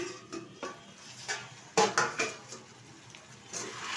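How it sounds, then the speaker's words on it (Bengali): Metal lid lifted off a cooking pot of doi begun, eggplant in yogurt, giving a few light clinks and scrapes, then a sharper clatter near the middle, close and fairly quiet. "ঢাকনাটা তুলে দিচ্ছি।"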